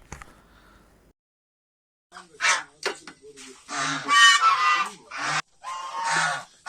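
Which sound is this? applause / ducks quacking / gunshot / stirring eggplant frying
ducks quacking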